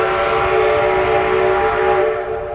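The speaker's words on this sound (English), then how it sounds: "Hear that? Steam train." A steam train passes close by outdoors near a creek, giving a loud, steady, tonal whistle that holds for a couple of seconds over a low rumble.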